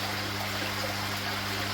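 A pump fills a backyard fish pond, giving a constant rushing, trickling water noise with a low steady hum beneath it, even and unbroken throughout.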